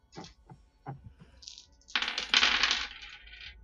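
Dice are rolled for a Ten Candles tabletop horror game, first a few sharp clicks and taps, then a bright rattling clatter as they tumble across a surface, fairly quiet and close, with no talk.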